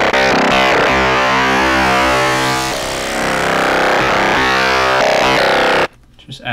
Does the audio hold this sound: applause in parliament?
no